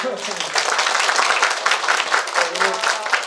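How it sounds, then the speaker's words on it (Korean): Parents at a school career information session applaud, clapping continuously through the room while a speaker's voice carries over the applause. "박수 한번 해주세요."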